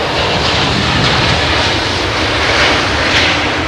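Loud, continuous roar of a jet aircraft departing on Heathrow's southern runway, broad and steady with a slight swell, close and alone without talk.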